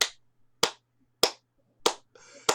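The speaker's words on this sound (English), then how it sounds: "Just a bunch of clap." Five sharp hand claps land close by, evenly spaced about half a second apart, with quiet gaps between them and no talking.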